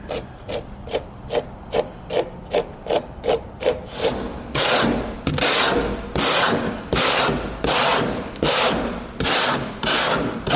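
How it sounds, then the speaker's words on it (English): Rhythmic scraping strokes of a 40-grit sanding block on metal fender flares, steady and close, starting light and quick, then growing louder and longer with harsh rasping texture. "I'm just using like a sanding block with 40 grit on it"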